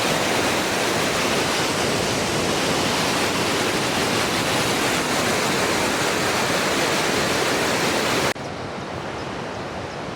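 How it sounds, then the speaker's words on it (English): Water pours over a weir on the River Trent in a loud, steady roar of broadband rushing noise, dropping slightly in level near the end, with no voices. "I'm going to leave the noise of the weir behind"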